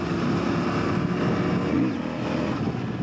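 A CFMOTO 800 NK motorcycle engine drones steadily while riding, a loud, continuous near hum with a brief swell in pitch partway through and no talking.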